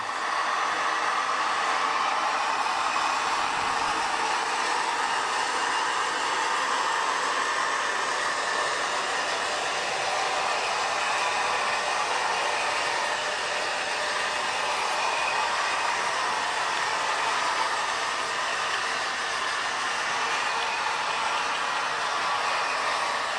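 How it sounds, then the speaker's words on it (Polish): A steady, hissing mechanical drone with faint rail-like rumble holds constant throughout, a small H0-scale model electric locomotive approaching close by on a layout with no voices. "Ok, zbliża się lokomotywa."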